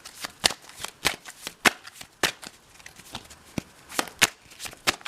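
Tarot cards are shuffled close by in quick, crisp bursts of riffling and slapping, repeating irregularly against quiet in between.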